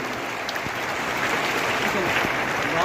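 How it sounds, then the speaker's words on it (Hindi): Continuous clapping from a large audience at a Hindi-language seminar hall, a dense even patter that swells slightly toward the end, with a voice talking over it. "तालियां बजाते रहिए"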